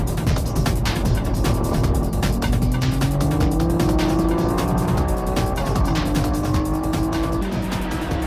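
Honda NSX-R on racing slicks racing on track among other cars, with loud, close, continuous engine howl, shifting pitch as gears change, and rapid mechanical clatter throughout.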